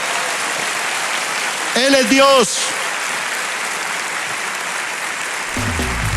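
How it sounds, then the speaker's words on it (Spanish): A church congregation claps loudly and steadily, a broad, continuous wash of applause from many people, with a voice briefly calling out over it and a low tone entering near the end. "Dele un aplauso bien fuerte porque Él lo merece."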